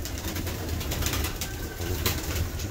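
Pigeons in a loft, their low cooing murmur running steadily under a constant close background rustle, with no talk.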